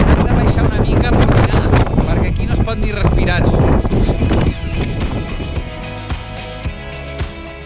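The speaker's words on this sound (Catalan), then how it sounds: "Fot un vent brutal, molta fred." Strong, cold wind gusts across a 3,090-metre mountain top in Lesotho, a loud continuous buffeting roar under close speech that eases slightly toward the end.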